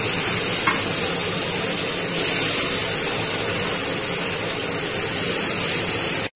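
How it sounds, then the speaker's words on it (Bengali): Shrimp fry in hot oil, giving a steady loud, dense sizzle that holds evenly throughout with no talking. "বন্ধুরা, তেলটা গরম হয়ে গেছে, এবার আমি এই চিংড়ি মাছগুলোকে ছেড়ে দিতে দেবো।"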